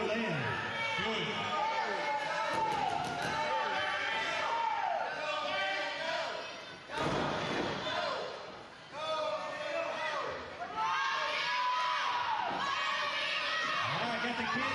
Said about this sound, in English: got the kids at ringside chanting, go Neil, go